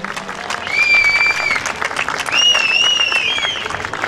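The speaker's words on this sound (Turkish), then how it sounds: "bir alkış da onlara hak ediyor." A crowd at a Sufi music concert applauds the municipal conservatory's saz players, a loud, sustained wash of clapping with scattered whistles and cheers rising over it.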